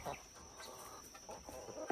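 A chicken on a country homestead gives short, soft clucks in a quiet outdoor morning setting, a few brief calls with faint background ambience.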